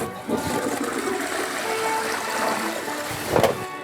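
A toilet flushes with a loud rush of water during a heavy clean of a limescale-caked bowl, the surge peaking near the end before trickling off.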